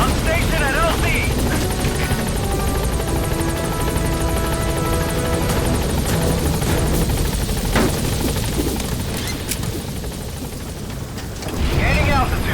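The B-Quad helicopter arrives at a landing zone in Metal Gear Solid V: The Phantom Pain. Its loud, steady rotor roar fills the clip, with voices speaking over it.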